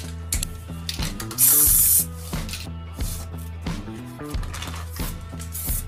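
An aerosol can sprays green paint in one short, sharp hissing burst, with lighter spray touches over rhythmic background music.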